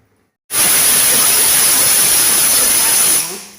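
A pressure cooker cooking rava vegetable bath lets out a loud, steady hissing whistle of steam that starts abruptly, holds for about three seconds, then fades out.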